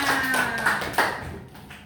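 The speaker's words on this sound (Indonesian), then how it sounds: "Tepuk tangan untuk semuanya." Children in a primary school classroom clapping their hands, a brief scattered round with a couple of sharper claps, fading out quickly near the end.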